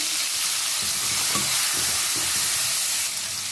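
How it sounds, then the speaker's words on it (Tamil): Cut tomato sautés in hot oil for horse gram rasam, a dense, steady sizzle filling the clip with faint stirring knocks underneath, close up and with no talk. "இப்போ வந்து நான் ஒரு தக்காளி வந்து இந்த மாதிரி கட் பண்ணி வச்சுருக்கேன், ஆட் பண்ணிக்கிறேன்."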